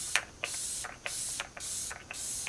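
Several short hissing bursts of a ColourPop hydrating face mist spray in a steady rhythm of about five sprays, close and fairly quiet, with no talking.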